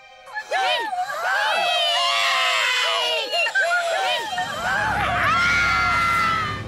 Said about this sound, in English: They screamed.